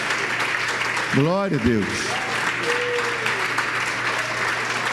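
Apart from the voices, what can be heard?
congregation applauding in church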